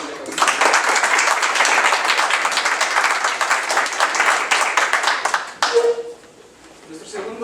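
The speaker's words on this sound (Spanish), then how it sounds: "Por favor, demos un aplauso a" Audience applause at a science and religion debate: dense, sustained clapping from a room full of people for several seconds, then cutting off abruptly and fading, with a voice briefly coming in at the end.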